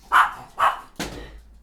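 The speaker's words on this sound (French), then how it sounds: "Il va aboyer sinon." Three sharp dog barks indoors, the first two evenly spaced and close, the third slightly rougher, with a short quiet tail after.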